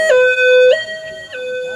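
An ambulance siren wails close and loud, swinging up and down between two pitches in a steady alternating cycle, with no one speaking.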